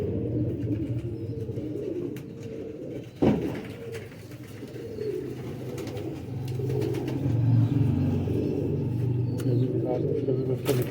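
Pigeons cooing in a loft, including pairs sitting on eggs, low soft coos blending into a continuous murmur with one sharp knock midway; someone speaks faintly underneath.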